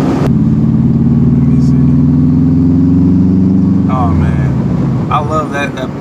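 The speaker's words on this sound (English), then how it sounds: "I love that spool, man. That spool sounds so good." A turbocharged bugeye Subaru WRX wagon drones loudly and steadily up close, its engine and turbo spool holding a sustained whining tone before easing off, while people talk over it near the end.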